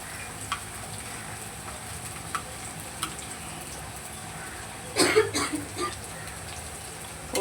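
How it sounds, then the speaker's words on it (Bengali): Steady sizzle of onions frying in a pan, with a louder burst of crackling as fried fish pieces go in and a few clinks of utensils. "পেঁয়াজটা প্রায় ভাজা হয়ে গেছে, এবার এর মধ্যে আমি ভাজা মাছটা দিয়ে দেবো।"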